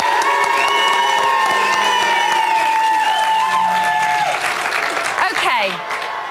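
A live studio crowd at a Big Brother UK 2013 eviction night cheers, whoops and applauds in a loud, dense, continuous roar that tapers slightly toward the end, with shouting voices rising through it.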